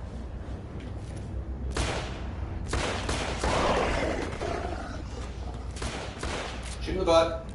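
Gunfire from the video game The Order: 1886 sounds in several heavy bursts and volleys, with a player talking over the action.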